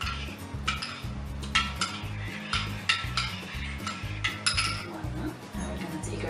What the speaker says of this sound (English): Mix it very well.